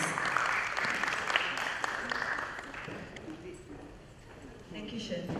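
People at a palm oil plantation sector roundtable applaud to welcome a speaker, with a dense wash of clapping that fades toward the end as a voice begins talking.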